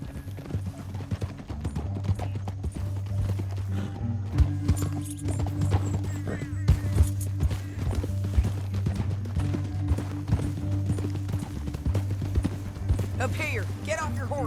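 Horse hooves gallop steadily in Red Dead Redemption 2: a dense, continuous clip-clop rhythm, close and prominent, with game ambience and voices mixed in.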